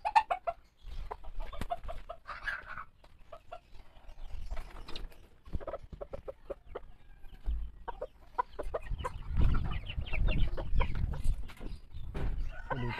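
A rooster handled and moved into a cage in a backyard clucks and squawks in short bursts, close and fairly loud, with rustling and a scuffle of movement building toward the end.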